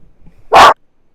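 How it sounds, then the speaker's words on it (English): A single loud, close bark from a dog indoors, short and forceful, with faint room noise before it. "my dog is barking"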